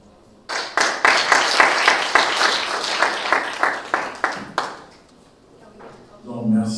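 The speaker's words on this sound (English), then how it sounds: "merci beaucoup pour les applaudissements" A conference audience applauds in a sustained burst of clapping that starts abruptly, holds steady for several seconds, then fades out as a voice begins speaking.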